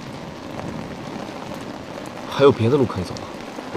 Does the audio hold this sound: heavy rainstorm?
yes